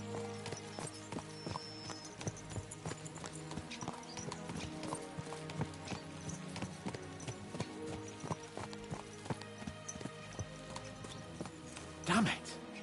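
Horse hooves clip-clop in a steady, brisk rhythm as horses are ridden in the medieval game Kingdom Come: Deliverance 2, with a short whinny near the end.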